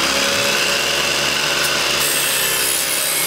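A knife drawn in steady strokes across a fine sharpening stone gives a continuous, even rasping scrape, close and fairly loud, with no voices.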